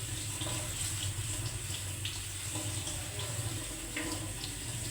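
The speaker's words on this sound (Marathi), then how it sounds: "अशी जाळीच वापरायची भाजी धुवायला" Water runs steadily from a tap over vegetables being washed in a mesh strainer, a constant close splashing stream with no voices.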